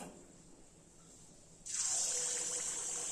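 Sweet appam batter poured into hot oil for a Karthigai festival treat, a loud bright sizzle bursting in abruptly halfway through and holding steady after a quieter stretch.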